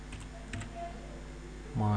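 A computer keyboard is typed on with a few light, scattered key clicks, fairly faint against a steady hum, before a voice starts speaking at the end.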